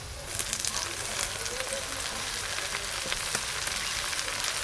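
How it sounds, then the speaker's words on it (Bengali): Washed, chopped water spinach dropped into hot oil with chillies and chopped onion, giving a loud, dense, continuous sizzle and crackle close by. "কেটে ধুয়ে রাখা কলমি শাকগুলো দিয়ে দেব"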